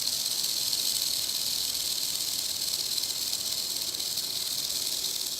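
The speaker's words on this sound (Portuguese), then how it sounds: "As cascavéis utilizam desse som para alertar da sua presença." A rattlesnake shakes its tail rattle in warning, a continuous dense buzzing hiss that holds steady and close throughout with no pauses or talking.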